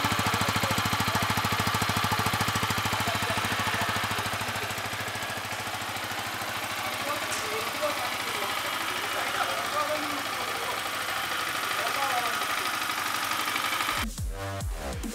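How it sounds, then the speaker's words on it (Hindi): A 2019 Yamaha MT-15 motorcycle's 155cc liquid-cooled engine idling for a long stretch, with an even, rapid chugging that stays steady and nearby, then a brief clatter at the end. "काफी अच्छा इंजन नोट है"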